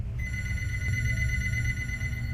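A telephone ring tone plays steadily and clearly during a call to a house seller, holding one sustained tone for about two seconds with no talking over it.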